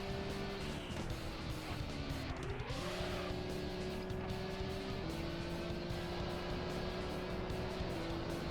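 A car races in the video game Auto Modellista, its engine holding a steady mid-pitched whine that rises and shifts with gear changes, with a brief tire squeal around a corner, continuous and without talking.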